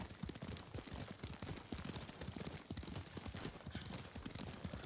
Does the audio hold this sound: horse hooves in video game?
yes